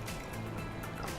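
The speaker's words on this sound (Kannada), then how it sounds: "ಒಂದು ಅರ್ಧದಷ್ಟು ಇದರಲ್ಲಿ ಮಿಕ್ಸಿಯಲ್ಲಿ ನೀರು ಹಾಕ್ಕೊಳ್ಳಿ" Water pouring into a mixer grinder jar while making ragi juice, a steady close splashing gurgle that runs unbroken through the short stretch with no voices.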